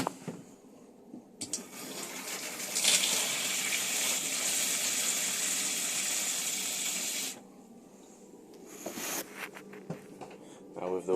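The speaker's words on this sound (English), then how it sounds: "With the pump on, you can then run water through the tap to get the air out of the system." A tap in a 2021 Bailey Grande Pegasus Messina caravan is opened and gushes with a bright, hissing spray for several seconds before cutting off, with quieter handling noises on either side.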